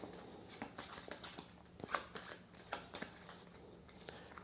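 Stay cards for the Votes For Women board game being shuffled by hand: a run of crisp riffling bursts and soft slaps, close and clear, with no talk.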